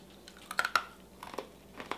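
Close, crisp crunching as homemade peanut brittle is bitten and chewed, in a few quick bursts separated by short pauses.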